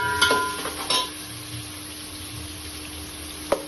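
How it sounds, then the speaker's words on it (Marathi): Ginger and garlic stirred and frying in a pan, a steady sizzle with a few scraping stir strokes near the start and a sharp clink at the end, no talk. "लगेच आपण आलं लसूण पण टाकूया। आता हे 2 मिनिटं हे करून घेऊया, हलवून घेऊया।"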